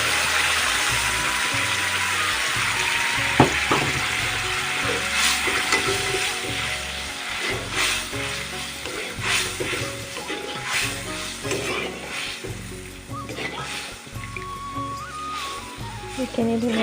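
A milk mixture in a frying pan bubbles and sizzles while being stirred, with repeated scraping strokes and utensil knocks up close, and background music runs underneath throughout.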